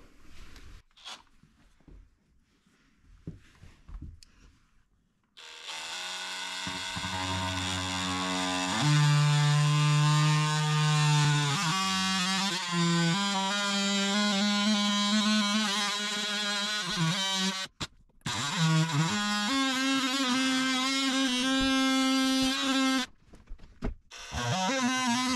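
A power tool cuts into a drywall wall, running loud and steady for about twenty seconds with a whining, shifting pitch and brief dropouts, after a few quieter handling knocks at the start.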